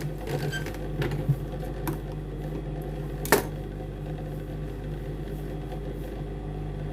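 A sewing machine runs close by as it stitches a trouser pocket in place, keeping up a low steady mechanical hum with a few sharp clicks and knocks and no talking.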